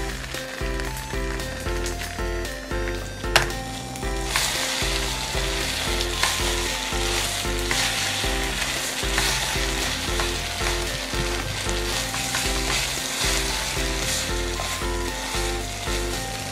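Food fries over low heat in a Teflon-coated mess tin, a dense, steady close-up sizzle with light crackling and an occasional utensil tap, with no speech.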